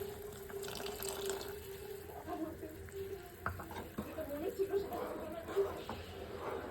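A spoon of cornflour being stirred into a little water for a soup: soft, faint swirling and scraping of liquid in a small vessel, with a steady low hum and voices in the background.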